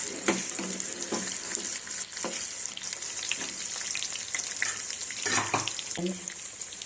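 Stuffed bitter gourds (gutti kakarakaya) frying in a pan for a curry, a continuous close sizzle with occasional sharp crackles and pops and soft stirring bumps throughout, with no voices.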